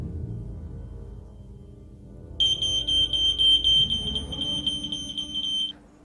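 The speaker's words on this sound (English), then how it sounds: "It would be wise to install smoke detectors inside your house as it would warn you" A piercing high-pitched smoke alarm tone sounds continuously for a few seconds over a low background rumble, then stops.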